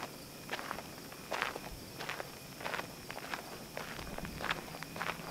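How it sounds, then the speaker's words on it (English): Footsteps crunch at a steady walking pace through the woods at night, soft and somewhat distant, over a constant hiss of insects. "Let's walk over here, okay?"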